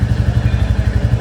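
A motorcycle engine warming up idles close by with a loud, steady low thumping rhythm that continues throughout.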